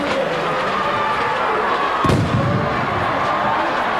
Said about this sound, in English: The fireworks continuing.